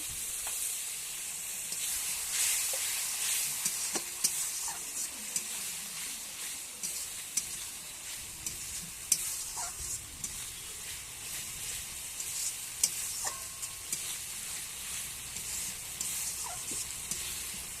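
Katla fish heads fry in a pan, a steady hiss of sizzling oil broken by occasional scrapes and knocks of a spoon stirring, close and fairly soft.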